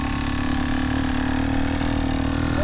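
A motorcycle engine idles at low RPM, low and steady, a constant close rumble with an even tone and no speech.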